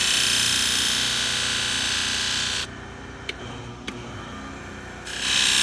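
A knife is drawn across a 600 grit flat whetstone hone, making a steady, close rasping scrape that pauses briefly, with faint clicks, before the next stroke.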